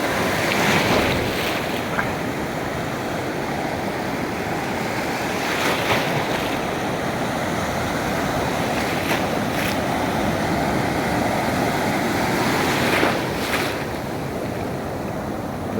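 Huge ocean waves surge onto the beach at Cox's Bazar in a continuous loud roar of surf, with heavier crashes swelling every few seconds and wind buffeting the microphone throughout.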